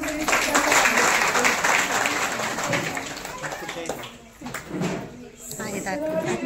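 Applause from a gathering for a guest at a village women's group annual meeting and haldi-kumkum event. Clapping carries on under a voice and dips midway before picking back up.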